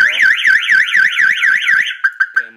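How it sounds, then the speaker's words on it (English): A marine boat alarm system wails loudly up close with a rapid warbling siren tone, then breaks into a few short chirps as it cuts off. "the alarm will fire off."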